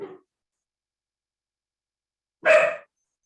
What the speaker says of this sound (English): Little brown canine barking there.